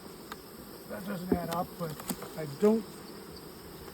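Honeybees drone around summer split hives in a steady, close insect hum, with someone talking over it.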